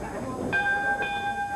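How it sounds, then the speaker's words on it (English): At a 1985 Memphis professional wrestling match, the ring bell rings twice with a bright sustained tone, half a second apart, over crowd noise and a commentator talking. "Bell is sounded."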